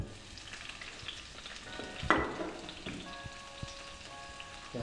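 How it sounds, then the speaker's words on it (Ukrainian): Sliced peppers and onions fry in oil in a pan on maximum heat, a steady crackling sizzle with stirring scrapes and one louder hiss burst midway, no voices. "Ставимо сковородку на максимальний вогонь, вливаємо олійки."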